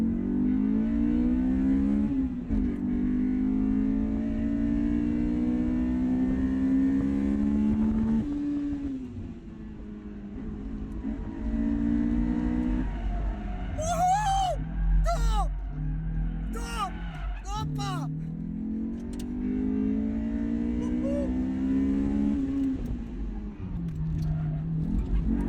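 A Honda S2000 or Seat Leon FR engine revs hard at high RPM, its pitch climbing and dropping through gear changes in a loud, sustained roar heard from inside the car, with people talking and exclaiming over it.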